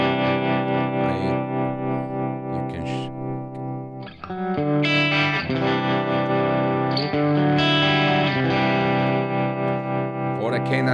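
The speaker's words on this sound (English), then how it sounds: "I can activate the tremolo." Electric guitar played with a pulsing tremolo effect, chords ringing out steadily and fairly loud, with a brief pause midway before playing resumes.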